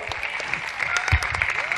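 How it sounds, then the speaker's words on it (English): An audience at a residents' gathering claps in a brief, dense burst of applause that rattles on evenly, with a voice faintly audible underneath. "this young statistician needs a still huger round of applause"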